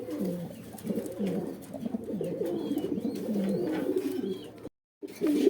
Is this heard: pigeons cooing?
yes